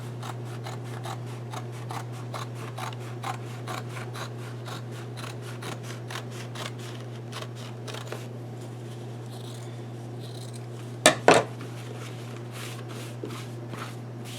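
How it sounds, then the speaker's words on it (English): Scissors cut across a denim seam in a long run of regular, crisp snips close by over a low steady hum, with a couple of louder handling clacks near the end. "No, I'm just going to cut it across the seam line."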